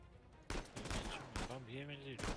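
Bursts of gunfire in the action video game Uncharted 4, sharp repeated shots clustered in quick volleys, mixed with game sounds and a voice talking over parts of the exchange.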